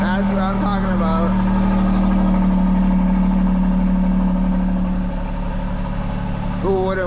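Alfa Romeo Giulia Quadrifoglio with its 505 hp engine idling after a cold start, a loud, steady low rumble that runs throughout, with brief voice bursts at the start and end.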